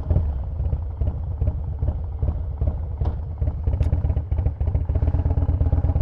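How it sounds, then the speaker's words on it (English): A motorcycle with shimmed, raised front forks idles and revs close by, a low throbbing engine rumble with a steady pulsing beat and faint clatter, heard alone without talk. "let's start her up and take a ride"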